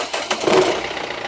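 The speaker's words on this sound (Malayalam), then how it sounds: "ആദ്യം സ്റ്റാർട്ട് ചെയ്യുന്ന സമയത്തൊരു സൗണ്ട് കേട്ടോ, അത് ഈ ഫൈബർ കിടന്ന് അടിക്കുന്നതിൻ്റെയാണ്." A 2015 Renault Terrano engine cranks and catches, with a brief rattling clatter from a loose fibre cover, heard close in a short burst.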